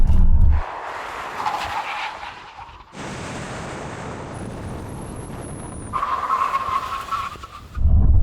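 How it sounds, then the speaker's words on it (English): An Audi S8 brakes hard in a drag race brake test with a sharp tire squeal, loud and close, following engine noise; a second skid squeal comes near the end. "let's do a brake test"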